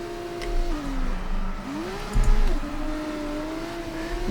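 F2 car in the F1 24 racing game launching from a standing start at Austria with wheel spin: a loud, close engine note climbing in pitch through repeated revs, with a brief harsh burst partway through.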